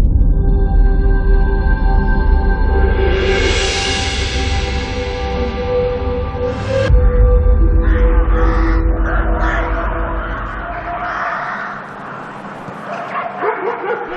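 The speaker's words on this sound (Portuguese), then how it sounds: "É dos Corvos, a banda sonora de Jedwabne." Crows cawing in Jedwabne, Poland, with harsh, loud calls from nearby birds and dog barks and yips mixed in.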